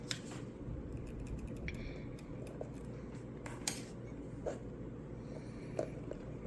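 Scissors trimming a piece of paper for a luminary decorated with old costume jewelry, several quiet, close snips and crisp clicks scattered over a soft background hiss.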